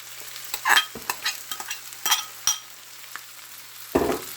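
Peppers go into a frying pan and are stirred, giving a series of sharp scraping and clacking spoon strikes over a light sizzle, ending in a louder splashy scrape; nobody speaks.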